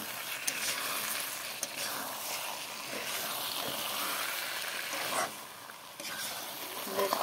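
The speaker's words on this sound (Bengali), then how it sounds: "চিকেনটা কষানো হয়েছে, আর একটু কষবে।" Chicken sautés in a pan for kosha, giving a soft, continuous sizzle with gentle hiss and occasional stirring scrapes at low volume.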